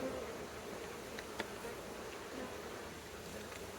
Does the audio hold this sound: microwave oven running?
no